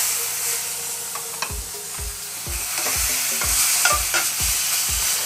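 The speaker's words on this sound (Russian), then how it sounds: "Давайте обжарим мясо." Lamb chops sizzle and spit in a hot pan without oil, with a steady frying hiss broken by regular knocks and scrapes as they are moved about.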